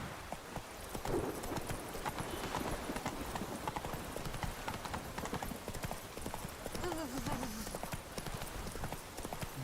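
Horse hooves clip-clopping in The Witcher 3: Wild Hunt during rain, a steady galloping rhythm throughout with rainfall, and someone talking over it.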